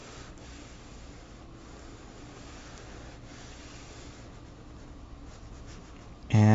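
A graphite pencil strokes long lines across drawing paper during a cast drawing, a soft continuous scratchy rasp with slight pulses, close and quiet, ending in a sudden loud bump.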